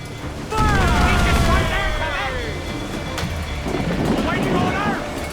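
Ship mortars in Assassin's Creed IV Black Flag boom in a heavy volley amid wind and sea noise, loud and rumbling, with shouted voices over the barrage.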